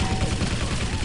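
Dense automatic machine gun fire in a Quake Live team deathmatch, a steady rattling stream of rapid shots filling the whole stretch at moderate loudness with game noise underneath.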